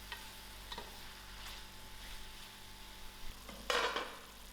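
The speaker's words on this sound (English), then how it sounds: "I give this a good mix and allow the tomato to cook." Tomato, salt and herbs being stirred in a hot pan for pumpkin herbs with dried shrimp, a soft steady sizzle with light scraping strokes and a louder burst of frying near the end.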